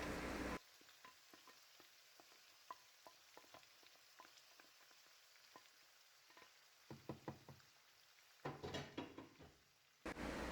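A spoon stirs chicken tikka masala gravy with marinated masala in a pot, making soft repeated scrapes and taps over a faint sizzle that build into louder clattering strokes near the end.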